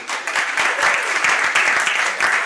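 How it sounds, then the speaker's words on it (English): Crowd applause at a stand-up comedy show, a dense, loud burst of many hands clapping that fills the whole moment with a steady, lively roar. "give yourselves a round of applause just for being here"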